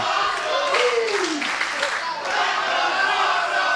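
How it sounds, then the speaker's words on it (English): A wrestling event crowd cheers and applauds, a broad wash of roaring noise that swells and eases, with a commentator's voice running over it. "listen to this crowd"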